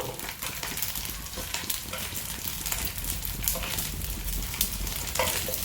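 Poha breakfast frying in a pan with a little oil while being flipped, a steady close sizzle with scraping stir noises running throughout.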